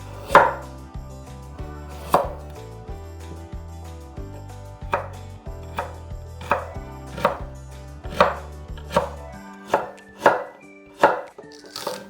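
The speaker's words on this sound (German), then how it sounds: "Möhren auch in dünne Streifen schneiden" A knife chopping carrots into thin strips on a board, about a dozen distinct sharp thuds in an uneven, quickening rhythm, close and clear over quiet background music, with no voices.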